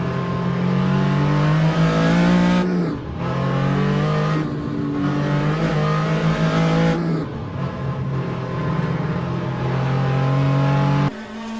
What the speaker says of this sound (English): Switching to Daryl Kruger's onboard in the number 94 Porsche 935 K3.